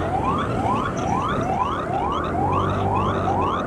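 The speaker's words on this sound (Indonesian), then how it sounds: "Di belakangnya tuh ambulan malah." Ambulance siren wailing in a fast repeating rising sweep, about seven cycles, loud and close amid traffic noise.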